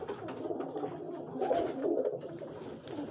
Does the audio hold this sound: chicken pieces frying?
no